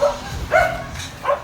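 A dog gives three short, sharp barks, evenly spaced and close by, over faint background noise.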